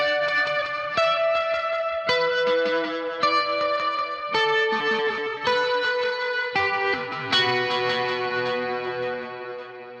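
Electric guitar through a BOSS GT-1000CORE Wet Mod Rings patch with heavy delay plays a slow sequence of chords and notes, shimmering and modulated with long echoing trails that blend into one another, with no voices.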